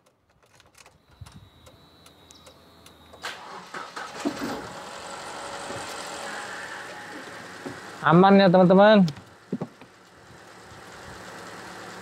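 A used car's engine idles steadily throughout at a home car lot in Serang, Banten, with a brief burst of a person speaking loudly near the end over the running motor.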